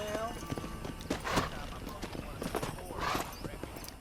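Hooves clip-clop steadily at a walking pace in the video game Red Dead Redemption, fairly close, with a horse snorting and voices talking over the steps.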